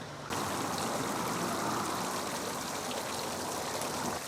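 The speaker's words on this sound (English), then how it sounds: "The sound of all the water." Water splashing and streaming steadily in a garden fountain in Vigo, a continuous close rushing wash that starts abruptly and holds at an even level, with no voices.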